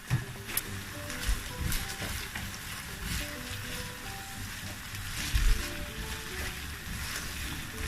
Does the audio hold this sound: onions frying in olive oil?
yes